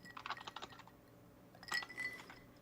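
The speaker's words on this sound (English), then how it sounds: "I'm hearing some typing." Quick bursts of typing on a computer keyboard, close and fairly faint, with light clicking keystrokes in two short clusters.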